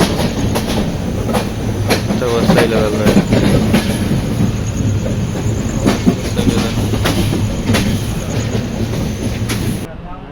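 A Mumbai local train running from Panvel, loud and close with steady rumble and rhythmic clickety-clack of wheels on rails, brief voices talking over it before the noise cuts off at the end.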